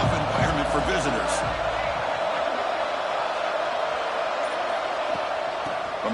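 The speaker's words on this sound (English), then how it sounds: "Listen to the crowd energy here in the early going." Crowd at a college football game between Arkansas and UNC, a steady stadium roar filling the space, with a few louder thuds early on before settling into continuous broad noise.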